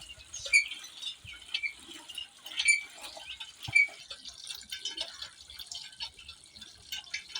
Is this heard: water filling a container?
yes